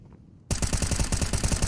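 Rapid automatic gunfire from a Counter-Strike match bursts in suddenly and continues as a dense, loud, rhythmic rattle of shots with no pause until the end.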